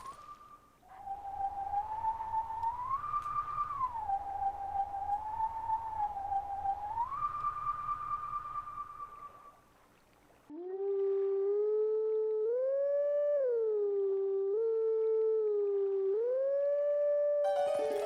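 In Zelda: Twilight Princess, a wolf howls at a howl stone in two long, tonal melodic phrases that rise and fall in steps, with a brief pause between them.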